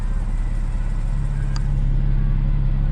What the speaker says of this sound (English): The flat 6 is an unmistakable sound, and much nicer than the later 4-cylinder turbos found in the 718.